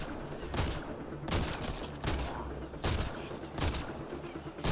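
Gunfire in the video game Mass Effect: Andromeda, five sharp bursts spaced roughly a second apart over a steady background rumble.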